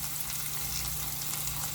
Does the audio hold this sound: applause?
no